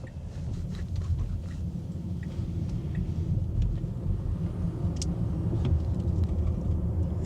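Tesla Model Y electric car accelerating, heard as a steady low road rumble and tire noise that builds slightly over several seconds, with no engine note and no voices.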